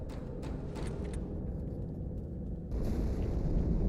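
A deep explosion inside the Athens ship in the Halo 2 video game rolls as a low, heavy rumble that swells louder near the end, with crackling debris bursts early on.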